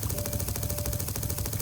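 Twin autocannons in TerraTech, a building and combat video game, fire together in a rapid, steady stream of heavy shots lasting the whole moment, loud and close with no pauses.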